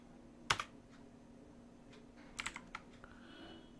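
A few faint computer keyboard keystrokes while entering card dimensions: one sharp click, then a short cluster of taps a couple of seconds later, quiet in a still room.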